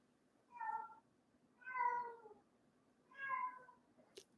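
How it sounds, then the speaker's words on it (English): A house cat cries out with three drawn-out, plaintive meows spaced about a second apart, fairly close and clear over a quiet room, with a faint click at the end. "We have a crying kitty who thinks it's a situation."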